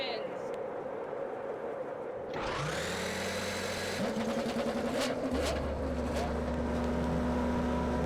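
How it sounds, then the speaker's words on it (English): Indycar engines in the NR2003 racing video game start up one after another, rising from a low hum into a loud, steady roar that keeps building and stays close and constant. "Drivers, start your engines."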